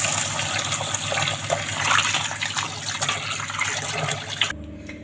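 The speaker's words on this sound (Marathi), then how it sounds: "स्वच्छ तीन पाण्यानं धुवून ह्याच्यामध्ये पाणी भरपूर घालायचं आहे" Soaked dal and rice being washed in water for dosa batter, a steady close gushing and sloshing of water that runs continuously, then cuts off abruptly near the end.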